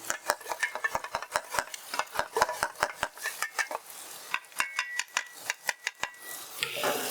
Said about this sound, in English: So here's our eggs, and let's see if we can. We're gonna scramble them.